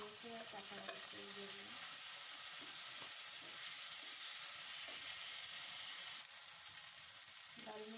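Onions frying in a pan for a fish and mati aloo curry give a faint, even hiss of sizzling oil. A few soft stirring knocks break it up.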